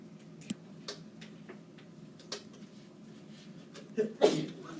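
A quick, sharp sneeze bursts out near the end, after scattered soft ticks and breaths against a quiet classroom.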